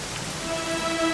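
Steady rain falls in Dragon Quest XI, a continuous even hiss of drops with a faint tonal music line underneath, constant in loudness throughout.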